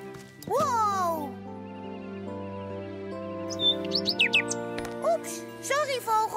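A cartoon bird lets out a few quick high chirps and tweets near the end, following a voice.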